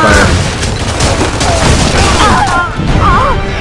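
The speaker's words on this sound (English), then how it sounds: "Some heavy lancer fire" Heavy Lancer gunfire in a competitive Gears of War-style match, a loud dense barrage of booming shots and crashes filling the scene, with overlapping game noise and some voice underneath.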